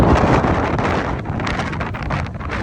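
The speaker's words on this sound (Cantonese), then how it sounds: "你睇下嗰日到底幾大風，睇都唔夠啊！你開聲聽啦" Strong wind gusting across the hilltop gardens of Schönbrunn Palace in Vienna, a loud, continuous roar buffeting the microphone with no pauses.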